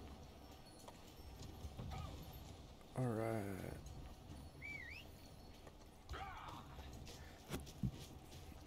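Horses gallop in a large siege battle in the video game Conqueror's Blade, quiet rhythmic hoofbeats under game noise with a few brief louder bursts and a short spoken remark.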